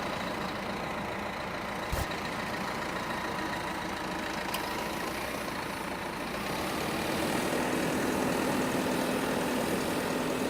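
A tractor engine idles at a farm during haymaking, a steady low rumble that stays constant throughout. Two brief clicks sound early on and the idle grows slightly louder near the end.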